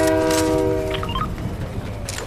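A train horn blares briefly in the Fortnite video game, a loud tonal toot at first that fades under steady rumbling noise, with a faint short chirp in the middle.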